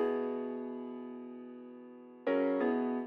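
A sustained synth chord from a music production loop rings steadily and slowly fades, then a second chord with a lower top note enters abruptly and holds, quiet and alone.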